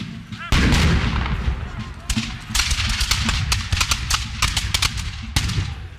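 A volley of sharp, loud gunshots cracks repeatedly from a scene of redcoats marching on the militia, with an initial heavy blast followed by scattered reports and echoing thuds.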